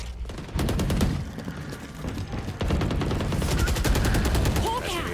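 Rapid gunfire in the video game Valorant during a tournament match, fast repeated shots in dense bursts with a pause midway, loud and close, with a commentator's voice faintly underneath.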